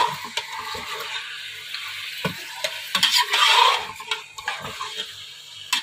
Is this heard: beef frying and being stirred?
yes